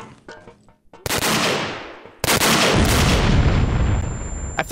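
Grenade blast and rapid gunfire in the Vietcong war video game: a sudden loud roaring burst, then a second heavy explosion with sustained crackling gunfire rumbling on to the end, no talk.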